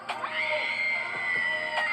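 A single sustained high-pitched scream holds for over a second, loud and unbroken, with brief noisy bursts at its start and end.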